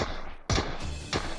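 Video game gunfire rings out in two sharp bursts, a loud crack around the middle followed by a second shot shortly after, over a steady background of game noise with no talk.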